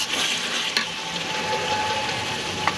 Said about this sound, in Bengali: আমার মশলা কষানো হয়ে গেছে, আমি এখন মাংসটা দিয়ে দেবো।